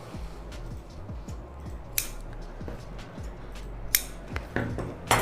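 Scissors snipping through blouse lining fabric at a sewing table, a run of short close cuts with occasional sharper clicks of the blades, no voices.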